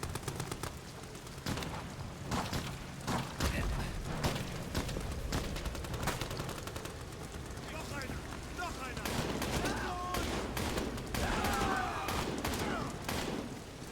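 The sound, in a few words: gunfire in the video game Amnesia: The Bunker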